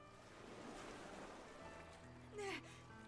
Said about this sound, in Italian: C'è un oceano oltre le mura.